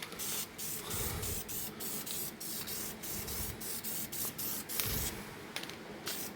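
Spray paint hissing steadily from a can as a tack coat goes onto a Yamaha YBR motorcycle part, a close continuous spray broken by short pauses between passes.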